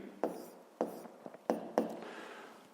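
A math solution is handwritten on paper, a few distinct close pen strokes and scratches separated by short pauses, fairly quiet.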